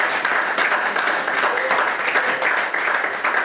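A church congregation applauds the Lord in a steady, dense wash of clapping that runs the whole time, fairly loud, with faint voices mixed in.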